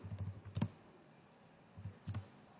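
Typing on a computer keyboard: two short bursts of soft, quick key clicks separated by a pause, close and fairly quiet with no talk.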